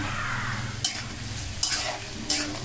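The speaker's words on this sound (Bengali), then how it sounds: "মরিচ পেঁয়াজ মরিচ ভাজা হচ্ছে" Onions and chilies frying in a kadai for a beef bhuri dish, a steady close sizzle punctuated by three sharp scraping stirs of a spatula, no talking.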